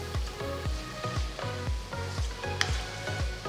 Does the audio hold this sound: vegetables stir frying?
yes